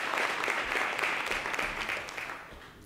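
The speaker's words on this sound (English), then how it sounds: "Please give him a warm round of applause." A dinner crowd at the City of Atlanta's inaugural Iftar gives a warm round of applause, heard as moderately distant, even clapping that tapers off slightly toward the end.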